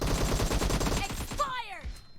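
Rapid bursts of gunfire in PUBG Mobile team deathmatch, a fast rattling string of shots for about a second and a half, then tapering into faint tones, loud and close.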